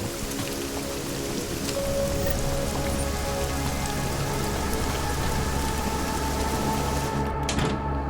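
Rain in the video game Deus Ex: Mankind Divided falls as a steady, dense patter on surfaces, loud and continuous, with a low background rumble and a brief disturbance near the end.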